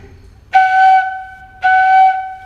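Two sustained, breathy flute notes, each held about half a second to a second, clear and close with a short gap between them.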